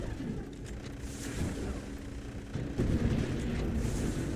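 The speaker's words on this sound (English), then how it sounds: "he's definitely letting out at least a few volleys" A video game turret fires repeated volleys of shots: rapid bursts of gunfire, dense and continuous, growing louder partway through with no voices.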